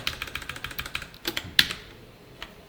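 Rapid, steady typing on a computer keyboard, including a press of the Alt key, as a run of close, crisp clicks followed by a louder single keystroke and then quiet.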